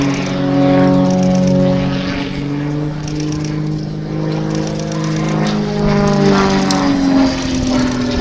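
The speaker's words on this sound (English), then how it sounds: "This is the single seat version of the Extra 300, designed by Walter Extra" An Extra 300S single-seat aerobatic propeller plane performs at an outdoor air festival. Its engine drones loud and steady throughout, with the pitch rising and falling as the aircraft maneuvers. No one speaks.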